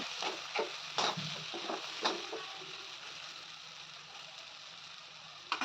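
Peanuts, coconut, sesame, ginger and garlic being sautéed and stirred in a pan, quiet sizzling broken by several sharp scraping knocks of a spoon against the pan, with no voices.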